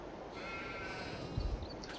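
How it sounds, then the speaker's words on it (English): A flock of sheep in the video game Farming Simulator 22 lets out faint, drawn-out bleats over a quiet farm ambience, with a soft thump near the end. "20 or 30 sheep out here"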